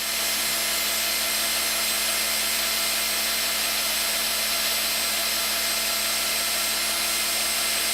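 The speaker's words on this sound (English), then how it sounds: "We're starting again with a number 40 drill bit." A power drill with a number 40 bit drills a metal part of a Zastava M76 rifle, a steady high-pitched whine holding constant and fairly close, with no talking.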